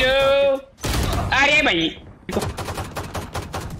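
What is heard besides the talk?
gunfire in Valorant video game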